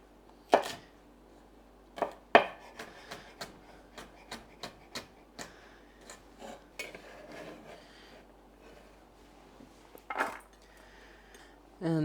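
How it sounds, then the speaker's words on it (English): Knife dicing vegetables such as peppers on a cutting board, with sharp isolated chops spaced irregularly, then a quicker run of lighter taps, quiet and close in a home kitchen. "the rest of these I'll just dice up by cutting them lengthwise, same as the peppers, and then cut them across"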